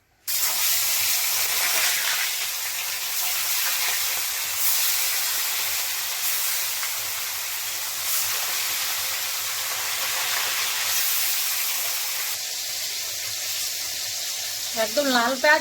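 Onions sizzle hard in hot oil with salt and turmeric, a loud, continuous hiss running nearly the whole time, with a brief clatter of stirring near the end.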